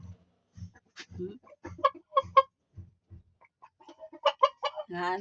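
Chickens cluck and murmur nearby in irregular short bursts, with a louder squawk near the end.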